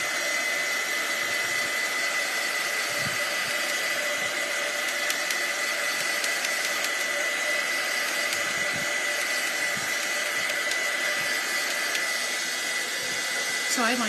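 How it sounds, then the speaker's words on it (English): Heat gun blowing steadily to dry freshly stamped paper leaves at a craft table, a continuous loud whooshing roar of hot air that runs unbroken throughout with no talking. "this is going to be a little loud with the heat gun"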